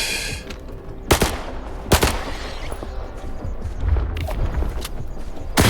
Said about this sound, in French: Fusil à pompe.